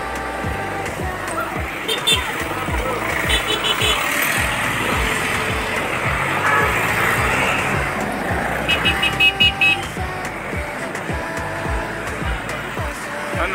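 Busy street traffic with many cars and trucks moving past, a dense continuous roar of engines and tyres with repeated passing swells and occasional brief horn-like tones, close and loud throughout.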